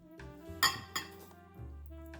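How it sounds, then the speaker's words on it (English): Vinaigrette dressing whisked in a bowl: a couple of bright clinks of the whisk against the side, then soft swishing, fairly quiet and close with no talking. "Let's go ahead and whisk this out one more time."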